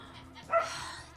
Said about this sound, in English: Can you hear the dogs?